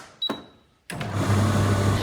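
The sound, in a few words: tumble dryer starting, drum turning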